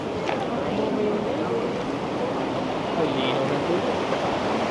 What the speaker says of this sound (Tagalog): Sarap ng pakinggan ng agos ng tubig eh.